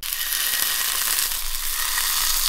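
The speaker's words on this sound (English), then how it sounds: "Oh, that sizzle!" Strips of plant-based bacon sizzle loudly in a frying pan, a steady crackling hiss with small pops throughout.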